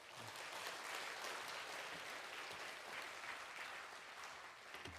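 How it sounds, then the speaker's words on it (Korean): A church congregation at a Sunday worship service claps to welcome a missionary to the pulpit, a steady, even wash of applause that stays full throughout. "우리 박필은 선교사님 나오실 때 우리 박수로 환영하겠습니다."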